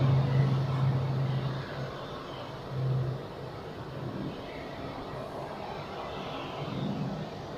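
An Airbus airliner's engines roar at Zurich Airport, a loud broad rumble that swells at the start, dips, then holds as a steady drone with a brief tonal hum, no talk.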